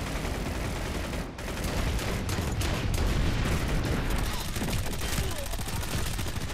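Gunfire from the video game Planetside 2 fills the clip as dense, continuous bursts and volleys of shots. The firing is loud and sustained, with a brief dip early on before the shooting resumes.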